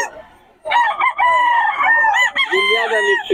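A fighting-line rooster crows loudly and close, one long sustained call that rises and then wavers before tailing off, with no voices over it.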